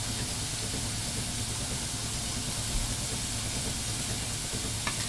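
Capsicum, carrot and onion roasting in about a spoon of oil, a steady sizzling hiss close up with small stirring scrapes and one or two brief clicks, no talking.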